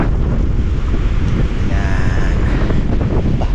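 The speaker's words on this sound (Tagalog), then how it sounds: "Ugong pa lang po ng hangin ay nakakatakot na talaga." Strong wind roars steadily into the microphone, buffeting it, with surf rumbling underneath and no voices, on a beach at Casapsapan, Casiguran.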